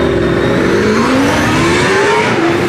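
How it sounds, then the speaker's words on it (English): An Indianapolis V8 race car engine screams to 14,000 rpm at the Shelsley Walsh hillclimb, a loud, close, sustained high-pitched wail that climbs steadily in pitch across the run. "Listen to this engine scream. It's the highest revving V8 we've got here today."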